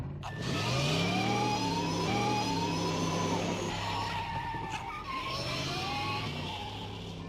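A DeLorean car revving and skidding, its engine tone climbing and sliding in long sweeps, loud and close with a sustained tire screech over a steady rumble.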